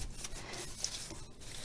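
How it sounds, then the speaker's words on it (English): Brisk scrubbing across the top of a hydroponics unit to clear hard water deposits, a close, quiet rhythmic rubbing and scraping over about two seconds. "Scrub the top of it."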